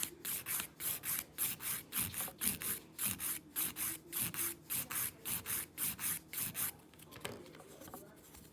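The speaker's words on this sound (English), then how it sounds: "Just keep filing it and filing it and filing it." Acrylic nails being filed down with a nail file: steady back-and-forth rasping strokes, about two per second, close and fairly quiet, easing off near the end with no talking.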